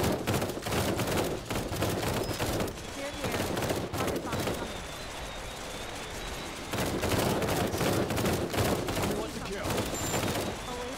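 In the zombie shooter Cepheus Protocol, a defensive turret fires at zombies in long, rapid bursts of gunfire. The bursts pause briefly midway, then the turret opens up again, with steady combat noise underneath.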